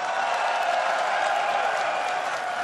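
Steady audience applause fills a large arena at an esports grand final, the League of Legends NA LCS match of CLG versus TSM, dense and continuous clapping with crowd noise and no pauses.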